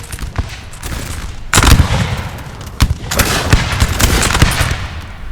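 Musket fire crackles through a Napoleon: Total War multiplayer battle at Toulouse: a sharp volley lands near the start, then dense, overlapping rolling volleys fill the second half, loud and continuous without voices.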